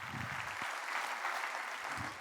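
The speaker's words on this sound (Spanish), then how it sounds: "Dale un aplauso al Rey bendito." Congregation applauding during a Sunday church service, a steady, moderately loud wash of clapping that holds evenly for a couple of seconds, with faint low murmurs at the start and end.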